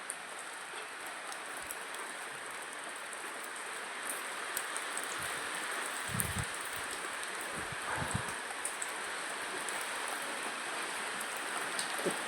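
Rain falls steadily under dark, heavy clouds, a soft continuous hiss with scattered louder drops and a few low thumps, fairly faint and steady throughout.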